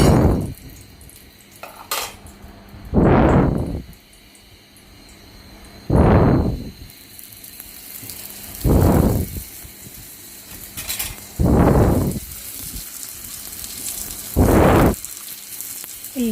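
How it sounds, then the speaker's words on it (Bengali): Paratha fries in ghee in a home kitchen. Five or six loud scraping and clattering bursts from the pan come at spaced intervals over a low background hiss. "আমি একটা একটা করে ঘি দিয়ে পরোটা ভেজে নেব।"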